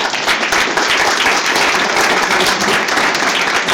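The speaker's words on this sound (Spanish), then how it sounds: "también un aplauso, por favor" Conference attendees at a lecture on artificial intelligence for social science research applaud a speaker, a loud, dense and continuous wash of clapping from many hands filling the hall.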